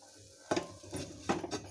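Spanish omelette frying in a pan over a low flame, with a quiet sizzle broken by a few scraping utensil strokes against the pan.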